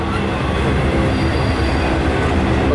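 Norfolk Southern G88 freight train passing eastbound, a loud continuous rumble of rolling wagons with rhythmic wheel clatter close by.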